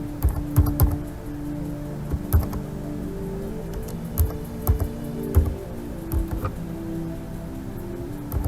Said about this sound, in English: I'm going to type my telephone number